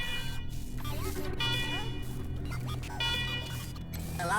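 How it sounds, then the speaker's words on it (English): Fire alarm blares inside a facility in the video game Wasteland 3, a loud repeating electronic wail with pulsing bursts over game music and effects. "Alarm, alarm, alarm, fire alarm"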